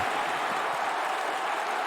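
A dense crowd roar in a WWE 2K wrestling video game fills the whole moment, a steady wash of cheering and noise with no break, loud and continuous.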